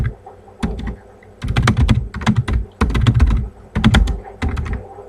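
Bursts of keystrokes clatter on a nearby computer keyboard, several quick runs of typing separated by short pauses.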